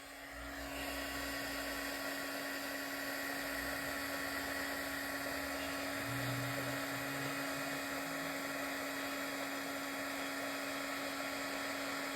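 A heat embossing tool blows steadily over embossing powder on a card sentiment, a constant loud whirring hum with a strong tonal whine that runs unbroken for the whole stretch.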